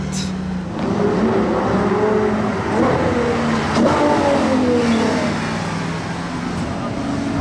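A Ferrari sports car drives past on a city street at night, its engine a loud, steady rumble with rising revs and shifting tones lasting several seconds, over some crowd and street noise.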